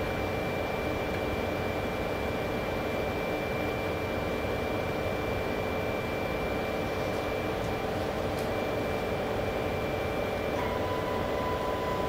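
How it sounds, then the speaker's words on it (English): Purdue gantry positioning system moving a vacuum pickup tool out of a tool rack during module assembly, a steady mechanical whir and hum with a faint high tone, continuous throughout. "Moves the pickup tool out of the tool rack and then translates over to the HDI location"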